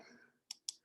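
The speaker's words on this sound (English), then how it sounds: "I'm going to click on the plus sign to create a new" Two quick, crisp mouse clicks close to the mic in roll paper printing software, following the faint tail of a voice trailing off.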